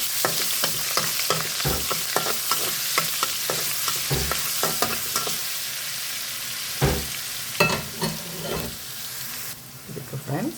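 Ginger paste fries in ghee in a pan, giving a steady close sizzle under repeated scraping and knocking strokes of a spoon as it is stirred.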